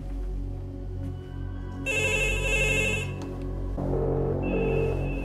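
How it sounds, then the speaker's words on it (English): Office telephone ringing in a drama scene, electronic trilling rings in bursts over a low steady background hum, fairly close and clear with no talking. "이때 시선을 사로잡는 사무실 전화기"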